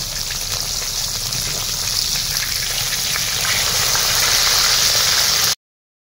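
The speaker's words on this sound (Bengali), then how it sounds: "আরও মাছ ভাজতে বাকি আছে, সেমভাবে বাকি মাছগুলো ভেজে নেব।" Pieces of marine chital fish frying in hot oil in a pan, a loud, continuous crackling sizzle that swells slightly before cutting off.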